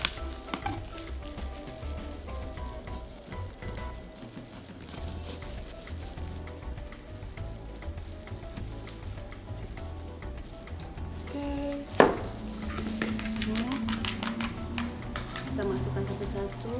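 Otak-otak bandeng, milkfish cakes, sizzling steadily in hot frying oil, a continuous crackle with occasional clinks and a sharp knock near the end, while a person talks over it.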